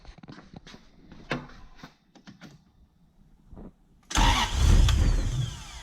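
A BMW E36 coupe fitted with a Toyota 1UZ-FE V8 cranks with uneven starter churning and clicks, then nearly catches in a loud, brief rough burst of engine noise at the end.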